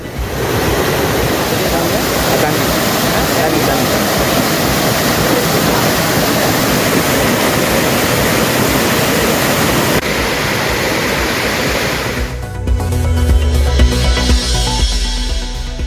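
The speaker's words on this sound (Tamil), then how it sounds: "நெல்லை மாவட்டத்தில் மணிமுத்தார் அருவியில் வெள்ளப்பெருக்கு" Floodwater rushing down Manimuthar waterfall in Tirunelveli district, a dense, loud, continuous roar that ends abruptly near the end and gives way to a rumbling, lower wash.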